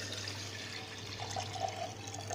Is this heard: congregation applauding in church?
no